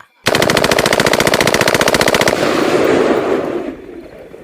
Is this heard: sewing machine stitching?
no